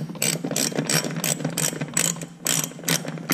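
A ratchet fitted with a 14 mm socket works a nut loose during a Mazda 3 fuel door cable repair. It gives rapid, close pawl clicks in a steady series of short bursts with brief pauses between strokes.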